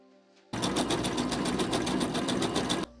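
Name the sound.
sewing machine stitching facing seams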